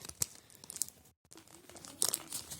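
Jurassic World trading card foil packet being torn open and crinkled, with short crisp rustles and crackles either side of a brief pause, quiet and close.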